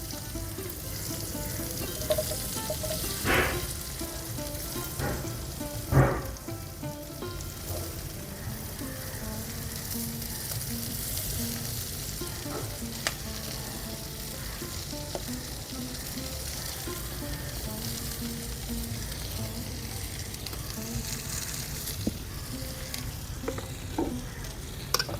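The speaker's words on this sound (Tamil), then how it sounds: "நல்லா வதக்கிக்கோங்க." Onions and green chilies sauté in a pan over a village wood-fired stove, a steady close sizzle and fry with occasional stirring scrapes and clinks, alone without talk.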